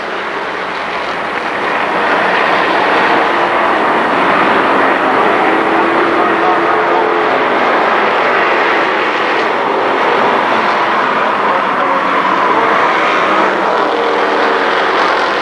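Pro Stock race cars battling at Kil Kare Speedway, a loud, sustained engine roar that swells after a quieter first two seconds and holds steady, with a track announcer talking over it.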